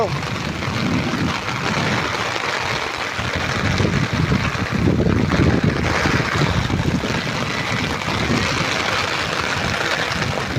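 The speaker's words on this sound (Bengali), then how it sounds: "দেখুন আমাদের চট্টগ্রামের মধ্যে কত পরিমাণে বৃষ্টি পড়তেছে।" Heavy rain pours steadily onto flooded streets in Chattogram, a dense, continuous wash of noise at even loudness throughout with no talking.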